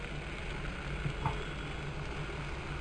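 Crushed onion, garlic and ginger frying in oil with salt for a Kerala fish curry, a low, steady sizzle with a few soft stirring clicks, fairly quiet.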